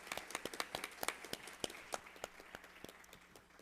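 Sparse clapping from a conference audience, a steady patter of individual claps that thins out toward the end, fairly faint and distant, with no voices over it.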